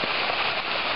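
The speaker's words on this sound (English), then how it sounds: "we got hail, hail, hail." Hail pours down outside in April as a dense, continuous patter. It is fairly loud and unbroken for the whole moment.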